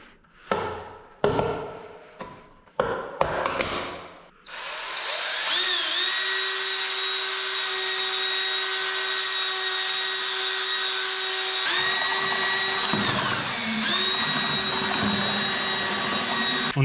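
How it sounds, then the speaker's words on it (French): An electric drill fitted with a mixing paddle stirs primer in a bucket for airless spraying. A few knocks and clatters come first, then the drill whines loudly and steadily, dips briefly, and revs up again. "Maintenant, on va mélanger notre sous-couche"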